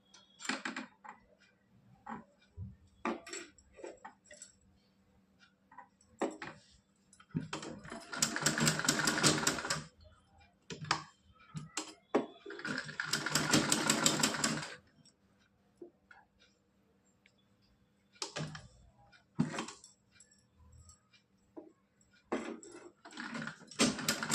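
A sewing machine stitching a doll's dhoti kurta outfit runs in two steady bursts of a few seconds each, between quieter ticks, clicks and handling of the fabric, with soft talk in the pauses.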